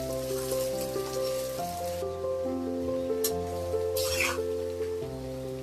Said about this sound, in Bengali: পেঁয়াজটা আমি সুন্দর করে লাল লাল করে ভেজে নেব